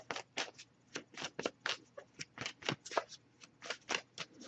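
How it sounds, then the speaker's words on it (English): Repeated crisp riffling bursts of tarot cards being shuffled, about a dozen quick rustling strokes in a steady rhythm, close and clear with no talking. "I'll give it a few more shuffles before we wrap up."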